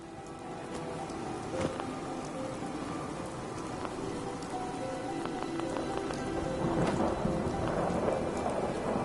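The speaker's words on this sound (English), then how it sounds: "Hope this rain lets up soon." Rain and thunder in the video game Fallout 4, a steady hiss of rainfall with low rumbles and scattered sharp drop ticks, the downpour growing slightly heavier toward the end.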